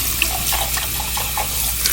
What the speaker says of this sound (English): we're just gonna rinse them out with cool water.